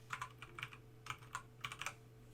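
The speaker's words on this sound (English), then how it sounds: "If I just start typing" Soft, quick keystrokes on a computer keyboard come in short irregular clusters of taps, close and quiet over a faint steady hum, with no talking.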